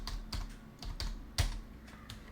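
Someone types on a malfunctioning computer keyboard, with a slow, uneven series of distinct key clicks and thumps and no voices.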